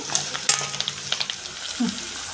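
Green chillies frying in hot oil for restaurant-style chilli chicken, a soft close sizzle broken by light clicking stirs from a utensil in the pan.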